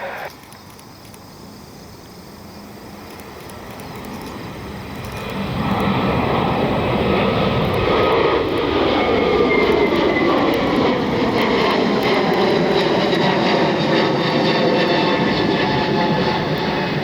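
A United Airlines Boeing 787 Dreamliner's engines roar steadily on the airport apron after pushback, swelling louder about five seconds in and holding a broad, sustained rumble with faint insect chirps in the background.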